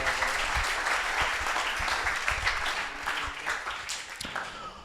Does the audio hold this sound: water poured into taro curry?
no